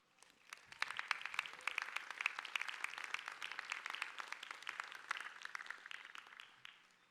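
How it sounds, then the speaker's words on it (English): A commencement ceremony audience claps for several seconds, dense and even, building quickly then tapering off at the end, heard from a distance. "please give yourself a round of applause"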